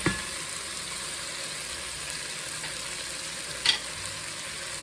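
Crumbled Italian sausage fries in a pan, giving off a steady, close, hissing sizzle that stays even throughout, with a couple of brief clinks near the end.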